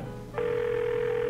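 A telephone rings on the line, a brief murmur followed by a steady, loud ringback tone that holds without pause.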